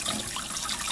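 Tap water runs steadily as an old antique bottle is rinsed under it, a continuous close splashing hiss with no voices.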